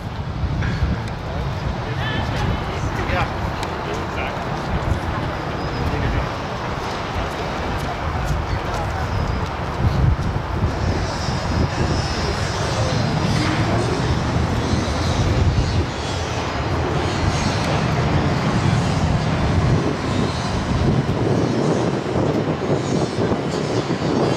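Yukon Striker roller coaster ride at Canada's Wonderland: a loud, continuous roar of rushing wind and rumbling track runs for the full run, with riders' voices and shouts mixed in throughout.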